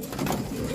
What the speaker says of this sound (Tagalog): Ayan na mga kalapatids.